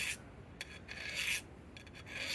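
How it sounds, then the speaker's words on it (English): Sandpaper scrapes by hand over a rusty pruning tool in harsh, rasping bursts, a few strokes of varying length with brief pauses between them, close up and with no one talking. "I gotta use some sandpaper to get that rust off,"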